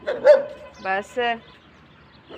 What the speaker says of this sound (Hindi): हमारा कुत्ता जो है वो भौंक रहा है उसको